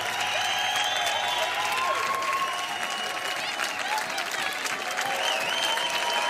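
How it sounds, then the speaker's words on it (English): Studio crowd clapping on a TV broadcast, a dense, continuous applause bed at steady loudness with faint tonal sounds over it and no speech standing out. "They're clapping."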